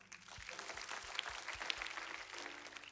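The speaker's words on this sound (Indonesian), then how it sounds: "Tepuk tangan dong." Church congregation applauding during a sermon, soft steady clapping heard at a distance, fairly quiet throughout.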